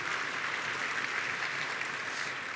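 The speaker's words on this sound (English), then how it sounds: "Yes, you can applaud." A convention hall crowd at an NDP gathering applauds, a dense, even wash of clapping from many hands filling the room without pause.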